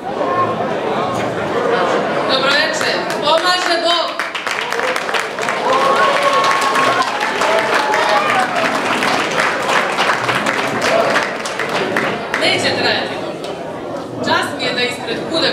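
Sustained audience applause and cheering fill a hall after a Serbian folk dance performance at a Kragujevački club festival, steady and loud throughout, with crowd chatter mixed in.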